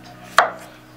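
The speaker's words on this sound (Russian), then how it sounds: "Также огуречек нарезаем на слайсы." A single crisp knife cut slicing through a cucumber, close up, with a brief ringing tail fading into quiet.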